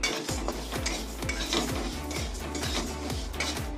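Black gram lentils stirred as they dry-fry in a pan, a steady scraping and rattling with regular spoon strokes against the metal, close and continuous, with no talking.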